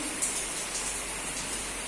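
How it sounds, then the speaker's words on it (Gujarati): Steady rain hisses down on surfaces nearby, an even wash of patter with no voices. "તો તમે જોઈ શકો છો વરસાદ"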